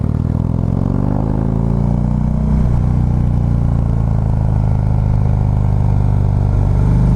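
A Harley-Davidson Street Glide Special's engine roars loudly and continuously after one downshift too many. The pitch of the revs shifts partway through, with a steady rumble and wind noise underneath and no voices.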